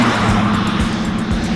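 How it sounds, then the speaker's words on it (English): A Chevrolet pickup truck rumbles loudly past close by, its engine a low steady roar with road noise sweeping through. "That was like a Chevrolet pickup truck or something."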